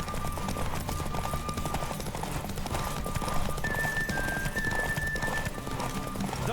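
Hooves clip-clop at a steady gallop in The Witcher 3, continuous and close over a background music bed, with a horse whinny in the mix.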